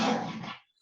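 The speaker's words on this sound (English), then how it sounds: "I'm sorry about my dogs." A dog gives a single short bark or yelp that fades out quickly, followed by near silence, with no speech over it.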